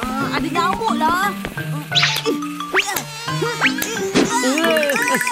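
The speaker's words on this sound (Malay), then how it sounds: "Ada nyamuk lah." Cartoon mosquito buzzing, a thin high whine that rises and dips in pitch, mixed with animated character voices and music-like tones throughout.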